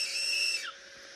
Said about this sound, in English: I'm going to suck my whistle